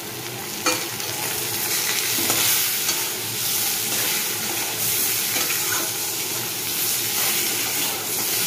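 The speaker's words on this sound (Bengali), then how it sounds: "হলুদ আর নুন দেওয়া হলো, এবার ভালো করে মেশাতে হবে।" Turmeric and salt being stirred through food in a hot pan, a steady broadband sizzle with scraping strokes of the spoon recurring throughout, close and fairly loud with no voices.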